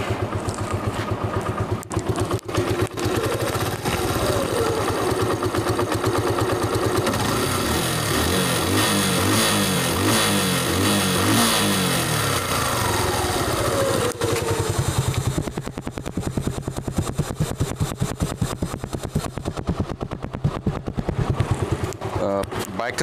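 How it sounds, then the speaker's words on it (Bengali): Suzuki Gixxer SF motorcycle with a fuel-injection problem running close by, its engine idling and revving in uneven rises and falls, with a rougher clattering idle near the end and someone talking over it at times. "এই জন্য সাউন্ডটা শোনা দিচ্ছি আপনাদের যে কাজগুলো করলাম বাইকটার ভিতরে"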